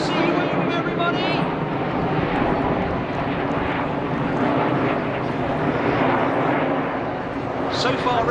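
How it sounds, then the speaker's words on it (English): Red Arrows display jets flying a barrel roll overhead, a loud continuous jet roar that swells and fades slightly while a commentator talks over it throughout. "Going into this barrel roll, the jets go upside down"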